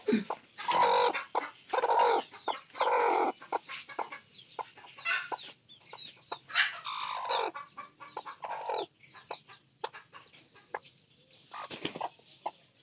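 Several chickens cluck and squawk close by in repeated bursts, loud at first and then more scattered, with no talk over them.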